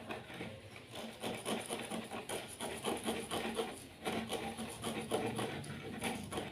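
Someone hand-shapes a lightweight aerated concrete (hebel) brick into an ashtray, producing repeated scratchy rasping strokes in an uneven rhythm, close and fairly quiet, with no voices.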